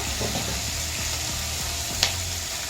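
Fish coated in masala frying in a pan, a steady close sizzle with soft stirring scrapes and one sharp clink near the end, no talking.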